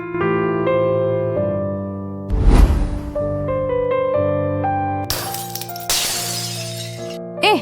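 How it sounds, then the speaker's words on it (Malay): Glass shatters twice in the Roblox Brookhaven video game, each a loud bright crash over steady synthesized background music, with a short chime near the end. "Apa yang bunyi pecah tu?"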